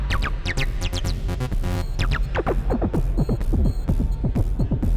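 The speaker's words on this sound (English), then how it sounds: "I have like a synth sound here." A hackable groovebox plays a synth sound with delay and reverb, repeating sweeping blips that chirp down over a steady low drone and rumbling kick, dense and electronic with no talk.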